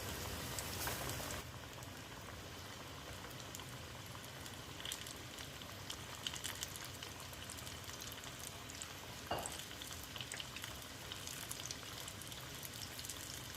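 Homemade chicken nuggets deep frying in oil, a soft, steady crackling sizzle that stays constant and fairly quiet, with occasional faint pops and a brief clatter near the start.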